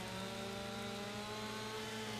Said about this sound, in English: we're going to have to cut it up into smaller chunks with the chainsaw